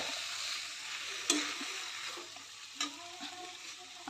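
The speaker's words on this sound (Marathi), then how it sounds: "आता ह्याच्यावर झाकण ठेवून वाफेवर ही भाजी शिजवून घेते." Drumstick pods (shevga) masala cook covered in a pan, making a low, continuous steamy sizzle with a few faint clicks and taps.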